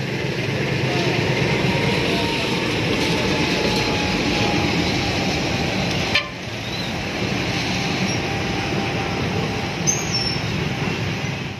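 Double-traction locomotives with a caboose wagon shunting at Kricak: a continuous heavy rumble with faint wheel squeal running through, and a single thump midway.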